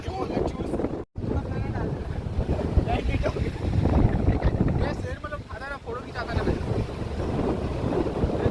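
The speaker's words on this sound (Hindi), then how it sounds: "हवाएं भी बहुत तेज़ चल रही है" Strong, steady wind buffets the microphone on the sea beach at Puri, a continuous roaring rush with crashing surf underneath and faint voices in the background.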